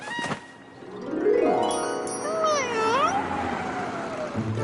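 A cat in a video game gives a long, drawn-out meow with rising and falling pitch, loud and close, after a brief sharp sound at the start.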